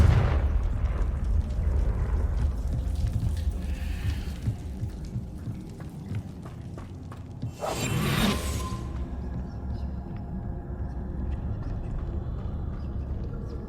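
A Confringo spell explosion in Hogwarts Legacy bursts out as one sharp, loud, whooshing blast partway through, rising above a continuous low rumbling game soundscape.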